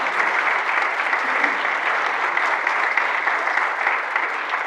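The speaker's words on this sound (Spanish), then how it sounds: "Yo les pediría otro aplauso para..." Conference audience applauds after a talk on aging water infrastructure, an even, continuous wash of clapping at steady volume with no talk over it.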